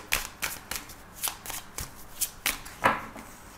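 Tarot cards are shuffled by hand in a steady run of crisp riffling bursts, close and clear, about a dozen swishes at an even rhythm.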